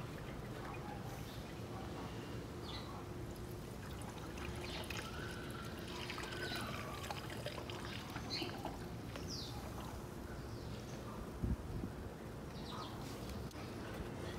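Water pours steadily into the coolant reservoir of a VW Polo, a continuous splashing trickle heard close up without talk, with a brief knock near the end.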